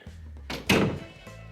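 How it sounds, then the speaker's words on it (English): A toy haunted house door being closed during children's play at home, giving one solid thunk of moderate loudness over a low background hum, with no talk during the sound. "Let me close the door."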